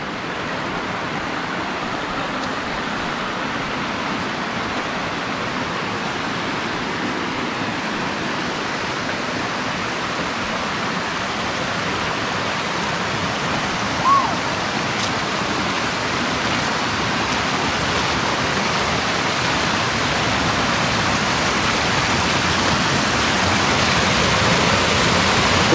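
Steady, dense rushing water of river rapids and a small waterfall over rocks fills the whole stretch, a broad continuous roar, growing slightly louder toward the end.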